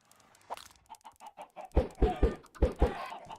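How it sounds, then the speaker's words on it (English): Chickens in a video game cluck in a short run of soft, evenly spaced notes, followed by louder, punchier clucks mixed with thumping impacts. "we're just gonna pelt these poor chickens with eggs until they do what I want"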